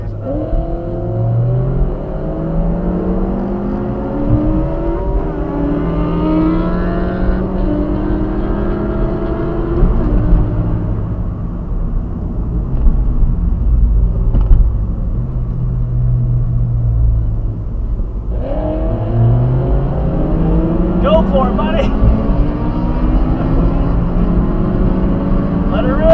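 A 2009 ZX6 600 motorcycle engine revving up through the gears in rising sweeps, easing off, then accelerating hard again, loud and close, with a voice talking over it.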